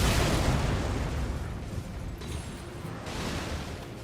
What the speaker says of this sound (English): Yep, those are exploding barrels.